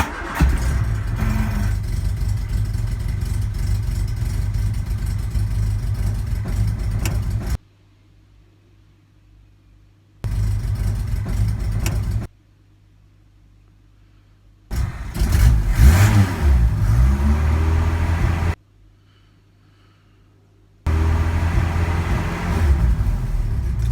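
A Mk2 Ford Escort Sport engine cranks and catches, idles with a mid-pitched rumble, then revs up in bursts separated by short stretches of silence.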